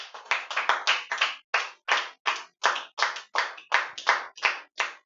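A church congregation breaks into rhythmic applause, steady bursts of clapping hands pulsing in a quick uneven beat for several seconds, loud and close with no voices over it.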